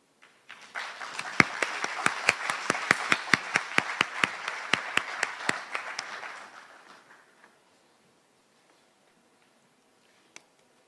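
An audience at the 2017 National Youth Awards ceremony applauds for several seconds, a dense patter of many hands with a few louder close claps standing out, fading to quiet at the end.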